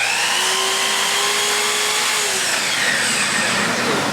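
A SawGear-equipped miter saw makes a butt cut, a loud, continuous high whine of the spinning blade with shifting tones as it bites through the wood, running the whole time without a break.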